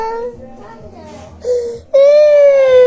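A young child cries and wails loudly and close by, starting with whimpers and building into a sustained high-pitched wail.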